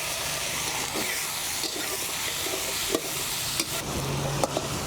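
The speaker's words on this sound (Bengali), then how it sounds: "এঁচড়টাকে আমি এভাবে নেড়ে চেড়ে অনেকক্ষণ কষিয়ে নেব" Marinated green jackfruit with whole chilies, cinnamon, cardamom and cloves being stirred and slowly sautéed in a pan, giving a steady close sizzle and hiss with occasional scraping knocks of the spatula against the metal.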